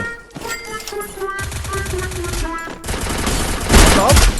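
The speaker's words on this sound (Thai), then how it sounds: "กระสุนฉลามวารี ยิงทะลุไอวอล" Water-shark bullets from a spell in an anime-style skydiving game rip through an ice wall, a rapid stream of loud, close firing bursts mixed with game effects, growing denser and harsher toward the end.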